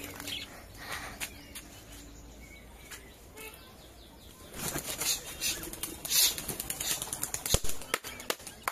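Wings flap and clatter as birds take off, faint at first, then a louder flurry of rapid wingbeats close by.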